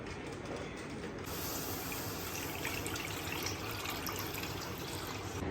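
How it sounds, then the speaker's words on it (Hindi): Milk being poured into a kadhai for kheer, a steady, continuous pouring and trickling sound that runs close and unbroken from start to finish. "तो इस दूध को कढ़ाई में डालेंगे और उसे बॉईल करने देंगे"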